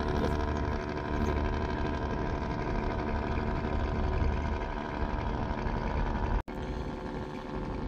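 The passenger launch Adventure 1 berthing at Barisal launch ghat, its engine a constant loud, throbbing drone mixed with ambient harbor noise, unbroken except for one sudden brief cut near the end.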